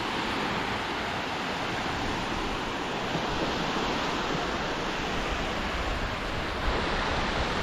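Steady, dense roar of waves washing onto a beach at low tide on Koh Chang, Thailand, continuous broadband surf with faint wind, no voices.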